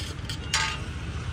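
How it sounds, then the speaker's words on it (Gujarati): Vegetables slowly sautéing on low heat in a pan for mag pulao: a soft, continuous frying hiss with a brief clink of a utensil partway through and no talking. "ત્યાં સુધી એનો ગોલ્ડન કલર પ્રોપર શેકાઈ ના જાય ત્યાં સુધી આપણે એને ધીમા તાપીથી શેકાવા દઈશું"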